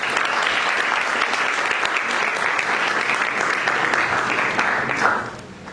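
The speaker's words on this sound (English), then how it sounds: "I think we really need to give her a big round of applause." An audience at a high school speech event in 2025 gives a sustained round of loud clapping that carries evenly for about five seconds, then quickly dies away.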